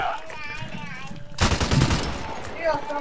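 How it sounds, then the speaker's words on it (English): A gunshot rings out in a first-person shooter video game, one sudden loud burst with a short ringing tail, set amid excited players' chatter before and after. "Oh my god, that was a random shot."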